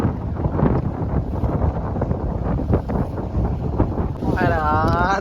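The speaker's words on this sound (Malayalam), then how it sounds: "കാറ്റ് കാറ്റ് നല്ലപോലെ കൂടിക്കൊണ്ടിരിക്കുകയാണ്" Strong wind at sea aboard a small fishing boat during net fishing, a steady buffeting rush with gusty bursts and microphone wind noise, while someone talks over it throughout.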